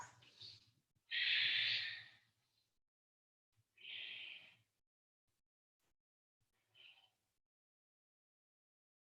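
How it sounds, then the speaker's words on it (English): Deep breaths during a yoga backbend: three or four soft, airy exhales, the second the longest and strongest, then fainter ones, with quiet pauses between them and no talking. "3 more breaths."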